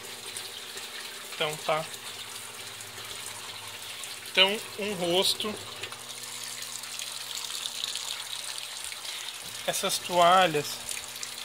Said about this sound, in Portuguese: E vou pôr encher. A pressão da água hoje aqui tá terrível e as duas estão na mesma torneira.